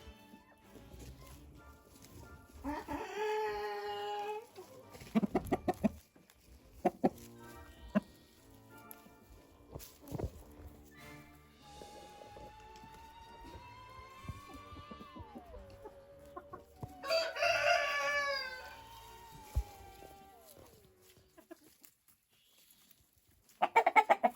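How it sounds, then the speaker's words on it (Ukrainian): Chickens clucking at a country garden plot, including a hen that lays blue eggs, with repeated nearby clucks and drawn-out calls rising and falling, plus a crow-like cry and a few knocks. "Це курочка, яка несе блакитні яйця."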